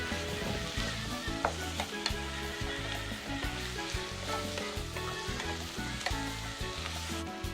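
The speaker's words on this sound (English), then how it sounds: "I told you we're going to saute everything." Vegetables sautéing in a pan for Trinidad breadfruit oil down, a continuous loud sizzle with stirring scrapes and clatter throughout, no voices.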